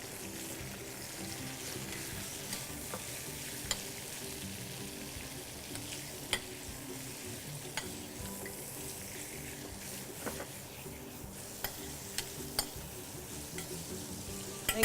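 Spinach fries in a pan with a steady, close sizzle and crackle, broken by a few sharp pops and spatters, with no voices over it.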